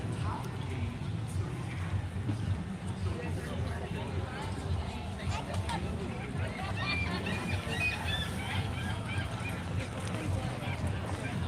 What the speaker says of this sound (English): Always love the seagulls.